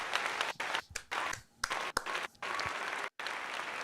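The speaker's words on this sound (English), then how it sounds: "let's give you a round of applause" Canned applause fired off from a stream deck during a live Sixers vs. Wizards play-by-play broadcast, a dense burst of clapping that cuts in and out abruptly several times, with brief gaps of near silence between chunks.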